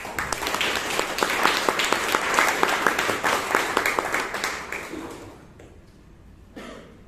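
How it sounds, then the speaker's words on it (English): A Toastmasters club audience applauds itself in a loud, dense round of clapping that lasts about five seconds before dying away into near quiet, with a faint sound at the very end. "let us all give ourselves a huge round of applause"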